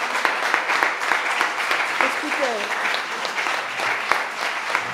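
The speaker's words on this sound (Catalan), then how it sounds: "Li donem les gràcies amb un fort aplaudiment i gràcies." An audience at a tribute event for a writer and linguist gives sustained, even applause for five seconds, with a brief spoken word heard over the clapping.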